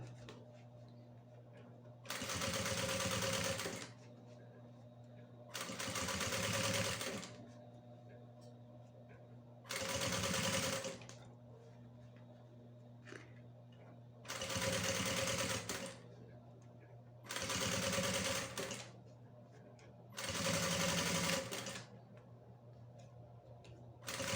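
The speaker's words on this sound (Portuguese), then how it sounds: "E vou costurar com um pezinho de máquina." A sewing machine with a presser foot stitches a lining onto shoulder bag fabric, running in six short bursts of fast, even whirring separated by quiet pauses, close and clear.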